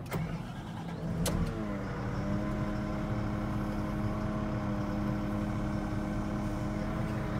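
A Volvo L70G wheel loader with about 6,400 hours cranks briefly and its diesel engine catches, then settles into a steady, even idle that continues close by with no talk.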